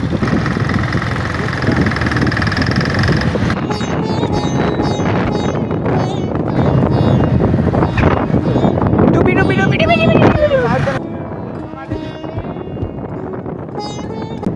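A motorcycle engine runs steadily and fairly loud, with wind buffeting the microphone, then drops somewhat quieter for the last few seconds.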